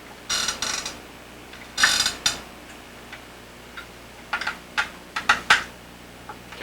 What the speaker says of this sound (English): Okay, go ahead and loosen the screws